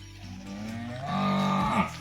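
Cattle low in a shed on farmland near Vedanthangal, one drawn-out moo swelling close and clear over a steady outdoor background with no talk.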